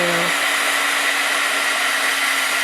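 A hair dryer blows steadily on a watercolor card, a loud, continuous close-up whooshing hum with no breaks for the whole stretch.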